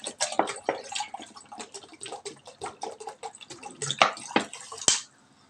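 Cold water poured into a vessel for mixing Tang orange drink, a busy run of close splashes, clinks and tapping knocks that ends abruptly, with no voice heard.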